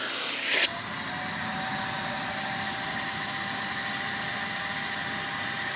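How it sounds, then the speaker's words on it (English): A Kenmore Intuition BU4022 bagged upright vacuum cleaner switches on with a click and runs at a steady, droning whine. "let's see if I can figure out a way of testing working vacuum on this"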